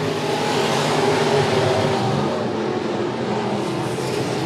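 Race cars in a heat race at Monett Motor Speedway, a loud, continuous roar of several engines running close together without a break.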